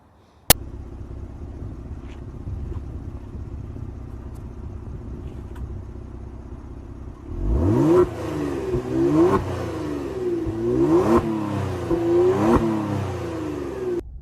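A 2023 Kia Stinger's 3.3-liter twin-turbo V6 idles steadily, then revs hard several times in rising and falling bursts, loud and close.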